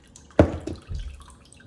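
Homemade ginger, apple and carrot juice being poured and squeezed by hand without a juicer, giving a single wet splash followed by soft dripping and trickling, quiet and close.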